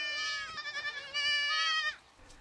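Leccese sheep bleat on a wide farm pasture, two or three long wavering calls close by, loud and clear with no talking.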